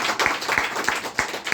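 An audience at a business seminar claps in unison, the claps falling in a quick, even rhythm roughly three times a second, loud and close.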